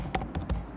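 A MongoDB command is typed on a computer keyboard: a quick run of four or five close, crisp keystrokes with short uneven gaps.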